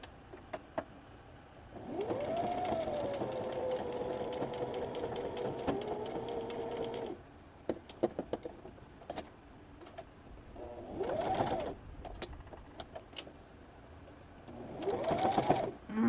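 A sewing machine runs a straight stitch through cotton wipes: one long whirring run of several seconds, then shorter bursts of stitching, with handling clicks between them, close and clear.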